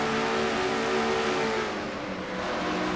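Race cars accelerate hard in a stock car racing game, a number 42 Pontiac among them coming off the third turn, a dense, loud, continuous engine roar with layered whining tones and no voice over it.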